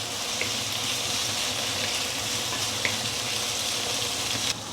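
Pork fries with bay leaf, cinnamon stick and star anise in a steady, close, dense sizzle that holds level throughout with no talking.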